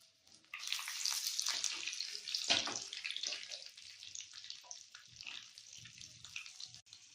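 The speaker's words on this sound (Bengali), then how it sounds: "এটা একটু ভেজে নিব।" Whole cardamom, cinnamon stick and bay leaf frying in hot oil in a pan for prawn malai curry, a steady close hiss and sizzle with crackling bursts that fades slightly toward the end, no talk.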